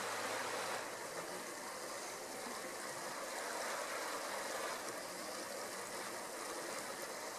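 A stream flows far below a cliff in north Idaho, a faint, steady broadband wash of running water that continues without a break or any voices.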